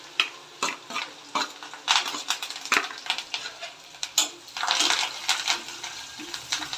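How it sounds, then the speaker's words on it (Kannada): Garlic fries in a pan as the base for tomato rasam, with a steady sizzle broken by sharp clinks and scrapes of a spoon stirring against the metal, close and fairly loud, with no speech. "ಫಸ್ಟ್ ಬೆಳ್ಳುಳ್ಳಿ ಹಾಕ್ಕೋತೀನಿ, ಯಾಕೆಂದರೆ ಇದು ಸೀದ್ಬಿಡುತ್ತೆ."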